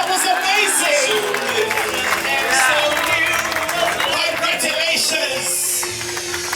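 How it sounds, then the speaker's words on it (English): Wedding guests applauding the couple, loud sustained clapping mixed with cheering and crowd chatter, with music or voices running underneath. "give him a round of applause, ladies and gentlemen"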